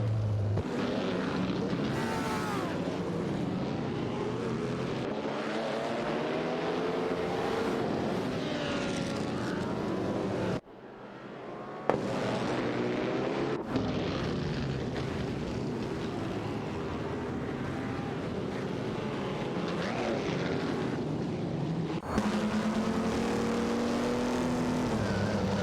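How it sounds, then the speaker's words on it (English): Race car engines in a video game, an Auto Union Type D and a Mercedes-Benz 125, roaring continuously with rising and falling engine tones as cars pass and shift, with one brief gap, no talking. "Captain Potato is piloting an Auto Union Type D, while Gary No Name is behind the wheel of a Mercedes-Benz 125"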